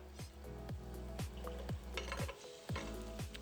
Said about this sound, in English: So I put some oil in the pot and I'm going to saute some pimentos, onions, and garlic together.